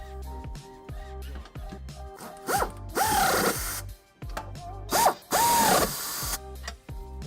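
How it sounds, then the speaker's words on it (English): Ratchet wrench with an 11/16 socket snugging trailer hitch nuts on a 2011 Kia Optima, close and loud, rapid clicking bursts repeated several times with short pauses between them and a few metallic squeaks, no talking. "we can snug them up using an 11/16 socket."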